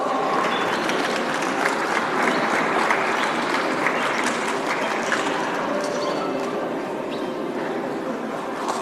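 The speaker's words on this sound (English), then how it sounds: "A big round of applause as Sadhguru is graciously inaugurating the exhibition stalls." Sustained applause from a large crowd at the India Startup Festival as exhibition stalls are inaugurated, a thick, even wash of clapping holding steady for several seconds with faint background chatter.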